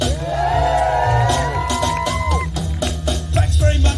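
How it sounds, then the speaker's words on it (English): An outdoor crowd at the Papplewick Steampunk festival whoops and cheers, with loud sustained shouts and yells, then breaks into rhythmic clapping and hollering. "Can you make some noise for the volunteers who keep Papplewick and make this day so very special?"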